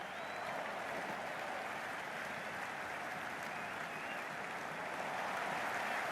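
A stadium crowd applauding and cheering in the Cricket 26 video game during a T10 England versus Australia match under a roof, a dense, steady wash of clapping and crowd roar that swells slightly near the end.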